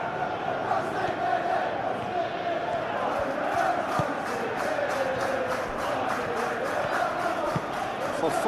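A stadium crowd roars steadily in PES 21 during a simulated Chelsea vs PSG Champions League match, a dense continuous murmur and roar with no commentary over it.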